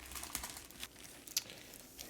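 An oversized plastic shopping bag holding comic books crinkles in brief, faint rustles and crackles, with a few sharper crackles standing out in a quiet room.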